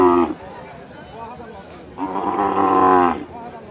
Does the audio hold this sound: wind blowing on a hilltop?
no